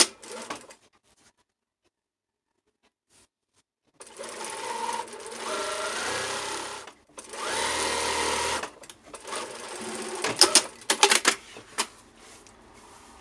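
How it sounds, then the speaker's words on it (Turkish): A sewing machine stitches sheer tulle curtain fabric in several close, steady bursts of rapid mechanical whirring, separated by pauses and handling clicks. "Üst taraftan da bir dikiş geçiyoruz."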